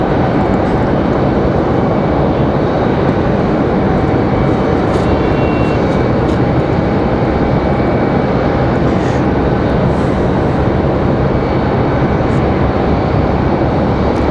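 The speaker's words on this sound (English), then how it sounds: "American A321 headed out to the end of the runway." An American Airlines Airbus A321 jet taxis toward the end of the runway at Raleigh-Durham International Airport, a loud, steady engine roar that holds constant throughout with no voices.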